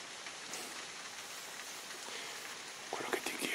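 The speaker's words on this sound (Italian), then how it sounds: "Ha cominciato a piovere" Steady rain falling outdoors, a soft continuous hiss with scattered drop patter, faint and even, with a few brief louder splashes near the end and no voices.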